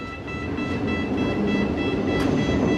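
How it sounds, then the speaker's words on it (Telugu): Steady rumble and rattle of a Cairo metro train in motion, heard from inside the carriage, loud and continuous with a faint high whine over the rolling noise. "మెట్రో ఎక్కేసి మనం మ్యూజియంకి వెళ్దాం"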